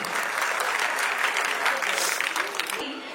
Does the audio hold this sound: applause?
yes